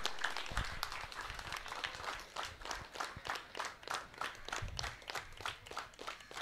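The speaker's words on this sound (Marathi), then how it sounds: "एकदा जोरदार टाळ्या या टी शर्टच्या अनावरणासाठी" A crowd applauds a T-shirt unveiling before a commentators' show match, with steady mixed clapping carrying on throughout at a moderate level and a few louder bursts of hands.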